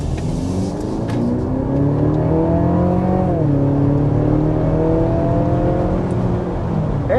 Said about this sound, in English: Okay, I went into sport mode. We'll get an acceleration like this as well.